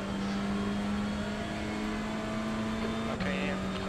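A TCR race car engine in iRacing at Sebring holds a steady high rev in second gear with a constant droning tone, then shifts near the end, a voice briefly heard over it.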